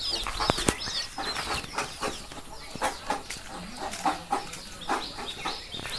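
Hens cluck in short repeated bursts while newly hatched chicks cheep shrilly around them, all near and lively, with a brief flutter of wings early on.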